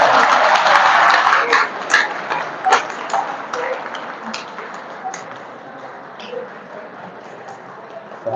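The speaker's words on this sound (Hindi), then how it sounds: "अब तालियां और बजेगी।" Applause from participants in a yoga class in a practical training camp, steady dense clapping that slowly fades over about eight seconds, with a few sharper claps standing out.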